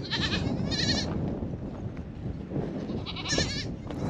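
Several goats bleat in a farmyard of a Wayuu family in Colombia, nasal cries rising in two bursts at the start and end, with nursing kids and a steady rustling background between them.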